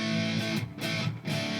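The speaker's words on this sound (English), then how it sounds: "This crunch is pretty distorted." Distorted crunch electric guitar tone through a Hotone Pulze modeling amp with gain high, dense sustained chords ringing loud and close with brief dips between strums.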